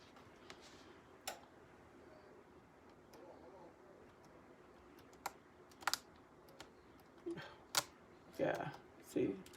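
Laptop keyboard with loose, coming-off keys being typed on, scattered sharp clicks and taps over a faint background, growing busier and louder toward the end, with speech underneath.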